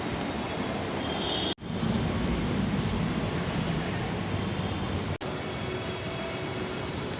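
A metro train at a station platform gives a steady broadband rumble throughout, broken twice by brief sharp dropouts, with no speech over it.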